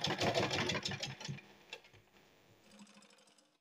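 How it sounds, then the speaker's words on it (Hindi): A sewing machine runs to stitch the edge of a fabric baby cap, a quick mechanical whirring burst up close that slows and fades to a faint ticking after about a second and a half. "चलिए फ्रेंड्स हम स्टिच करते हैं"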